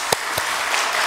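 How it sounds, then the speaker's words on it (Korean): A church congregation at a Sunday worship service in Ulsan gives a round of applause, a steady wash of clapping with two sharper thumps near the start, brief and fairly loud. "찬양을 받으신 하나님께 영광의 박수 돌리겠습니다"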